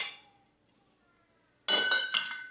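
Onions get dumped into a roasting pan beneath a roast: a quiet fading rustle, a short lull, then a sudden clattering burst of pieces hitting metal with ringing clinks, close and loud.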